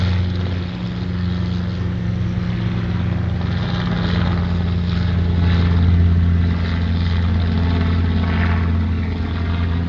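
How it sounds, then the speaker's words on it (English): A small black military helicopter drones overhead, a steady low rotor and engine hum that swells slightly as it passes, continuous and fairly loud with no talking. "Another freaking military helicopter."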